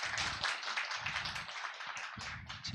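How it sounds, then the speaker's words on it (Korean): Audience clapping at a book concert and talk event, a quiet, fairly distant patter of many hands with uneven surges, heard alone without speech. "제가 일부러 박수를 2번 유도한 건 아닌데 2번 쳐주셔서 감사합니다."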